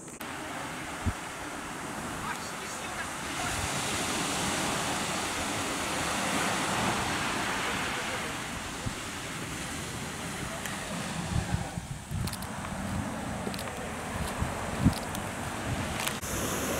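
Ocean waves and surf break along the coast of Niijima in the Izu Islands, a noted surfing spot: a steady, loud broadband roar of surf mixed with wind buffeting the microphone, continuous throughout with no talking.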